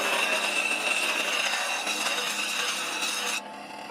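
A tool blade being sharpened with a rocking motion during work on a new handle carved from a dead root, giving a continuous close scraping rasp that stops abruptly near the end.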